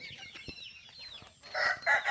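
Backyard chickens cluck and a rooster crows in short bursts, close and fairly clear, with the crow rising louder near the end.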